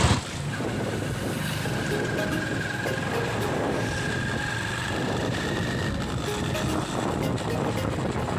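A motorbike engine running steadily while riding toward a market, a continuous close rumble with wind noise throughout.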